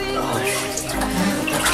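Water and ice pour into a cold ice bath, a loud close splashing rush with a heavier surge partway through, while people shout and talk over it.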